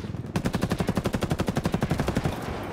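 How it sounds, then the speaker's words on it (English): Rapid automatic gunfire in the Ghost Recon Wildlands co-op shooter, a long sustained burst of about twenty-five evenly spaced loud shots over two seconds, close and punchy, tailing off into echo. "Wait, somebody's shooting me. Somebody's chucking grenades my way."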